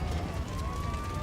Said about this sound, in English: Fire trucks and ambulances race to help them.